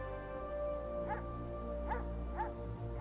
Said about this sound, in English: Stop barking at me, doggy.